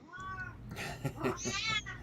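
A hungry house cat meowing indoors, several close, fairly quiet meows in quick succession, the first drawn out and the later ones shorter and higher, with no one speaking over them.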